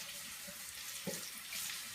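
Hot water runs steadily from a tap into a sink as a washcloth is heated for an eyelid compress, a close continuous hiss with no talking.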